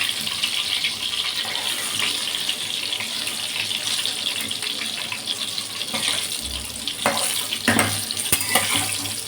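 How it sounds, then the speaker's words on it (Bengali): Pointed gourd (potol) frying in a pan, giving a steady close sizzling hiss with a few scattered clicks and scrapes toward the end. "এই যে পটলটা বসিয়ে দিয়েছি, পটল ভাজাটা হচ্ছে"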